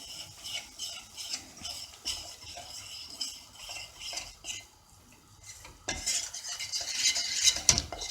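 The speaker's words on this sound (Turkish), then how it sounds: "Unumuzu güzelce kavuruyoruz." Flour being stirred into melted butter in a pot for aside, with a spoon scraping and clinking against the metal in a quick, continuous rhythm, close up, growing louder and brighter toward the end.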